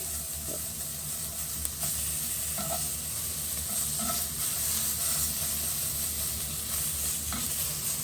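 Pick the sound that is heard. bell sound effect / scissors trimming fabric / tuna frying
tuna frying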